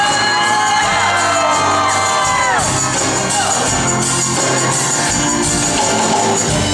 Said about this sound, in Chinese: 用最热情的尖叫声